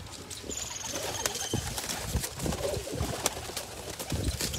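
Teddy pigeons for sale cooing in soft, repeated throaty calls close by, with occasional wing flutters and scattered chirps amid a busy background of other birds.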